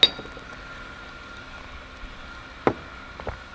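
Glasses clink together in a toast over a Korean meal of sundae gopchang hot pot and soju, a sharp bright chime at the start followed by another crisp clink later, with faint table clatter in a quiet room.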